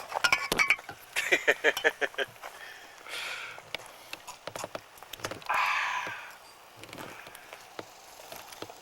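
Wine glasses clinking together in a toast outdoors in Montana, several bright close chinks in quick bursts, with people talking and laughing around them.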